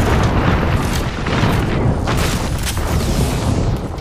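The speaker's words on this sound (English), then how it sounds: "Airstrike." Airstrike ultimate explosions in Apex Legends, a loud continuous barrage of booming blasts rolling over one another for several seconds, close and heavy, without speech.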